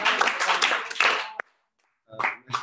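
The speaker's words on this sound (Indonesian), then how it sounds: "Tepuk tangan dong" Audience at an organization management training session in Indonesia breaks into clapping, a dense burst of claps for over a second before cutting to silence, then brief voices.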